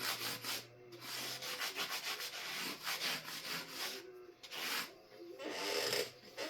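Guitar frets sanded by hand with the finer side of an abrasive, faint close rubbing strokes in an uneven back-and-forth rhythm.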